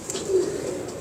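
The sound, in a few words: pigeon cooing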